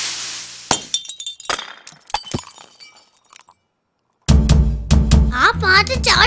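A dish falls in a kitchen and breaks with several sharp crashes and clinking shards over a few seconds, then brief silence before voices begin.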